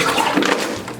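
A heated can is dumped upside down into water and implodes, giving a brief, loud, close burst of gurgling, splashing water.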